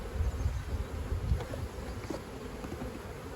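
Honey bees swarm around an opened beehive frame full of brood, their buzzing a dense, continuous hum close by, with no voices over it.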